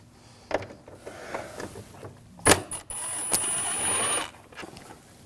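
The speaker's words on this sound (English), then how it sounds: "using a 10mm socket, we're going to take these bolts out" A 10mm socket drives bolts out of a 2006-2009 Audi S4 windshield wiper transmission, with a few sharp metallic clicks and knocks, then a sustained mechanical whir lasting about a second.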